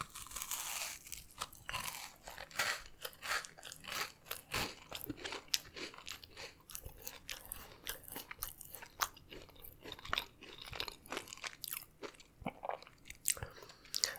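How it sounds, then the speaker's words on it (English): Close-up crunching and chewing of a crunchy double chocolate cookie with nuts, steady bites and mastication running continuously and fairly loud, with no talking. "let's try this double chocolate with one nut in it"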